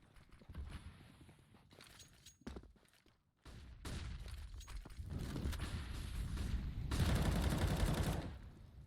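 Gunfire during a Counter-Strike match between Endpoint and HellRaisers, bursts of rapid shots and bangs that build into a dense, loud volley toward the end, with a short lull in the middle.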